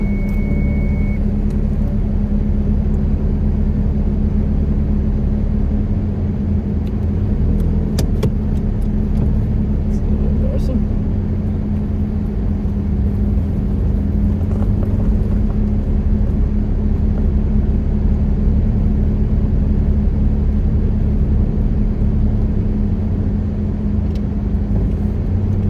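Toyota MR2 SW20 engine idling steadily after starting, a constant close low hum and rumble with a faint brief whine at the start, running unchanged throughout without speech.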